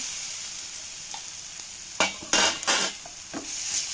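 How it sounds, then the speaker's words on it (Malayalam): Half a spoon of ginger garlic paste sautéing in a hot pan for an Iftar snack, with soft steady sizzling broken by a few louder stirring scrapes near the middle, close up and without speech. "ഇനി നമുക്കിതിലേക്ക് ഇഞ്ചി വെളുത്തുള്ളി പേസ്റ്റാണ് അത് ഞാനൊരു അര സ്പൂൺ ചേർത്ത് കൊടുക്കുന്നുണ്ട്"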